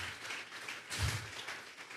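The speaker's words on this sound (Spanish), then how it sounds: "Vamos a regalarle ofrenda de palmas al Dios de la gloria." Church congregation applauding during a Sunday service, a soft, distant wash of clapping that swells briefly in the middle and then settles.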